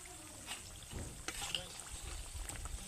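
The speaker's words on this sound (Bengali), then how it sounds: "বন্ডাগুলো সবগুলো ভাজার জন্য তেলের কড়াইতে দেওয়ার পর দেখতে কতটা সুন্দর লাগছে দেখুন।" Egg bondas frying in an oil-filled kadai make a faint, low sizzle with soft bubbling and a few light utensil taps.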